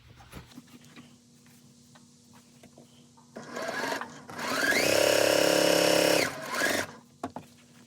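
A sewing machine stitches a row of quilt squares, with quiet handling noises, then a loud continuous run of about three seconds, a short pause and a brief second burst.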